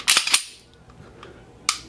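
Sharp, loud 9mm shots ring out from a Taurus PT111 G2 pistol. Two come in quick succession, followed by a third after a short pause, each with a brief decaying ring.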